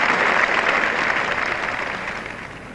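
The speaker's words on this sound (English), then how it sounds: "applause there from his Kent colleague, applause from Tony Greig" Applause from a cricket crowd during a county-era Test match, a dense wash of clapping that starts loud and gradually fades over a few seconds, with no voices.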